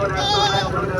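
Goats and sheep bleat at a crowded livestock market, the animal calls blending with a steady murmur of voices and people talking nearby.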